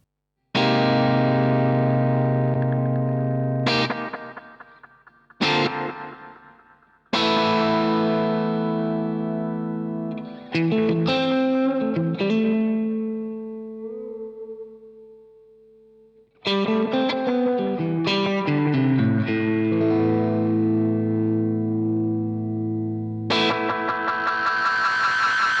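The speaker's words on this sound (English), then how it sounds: "which is the delay Llama, which is a analog style delay." An electric guitar runs through a JAM Delay Llama analog-style delay pedal, with loud sustained chords and single notes trailing into warm repeating echoes that decay and swell. No voice is heard.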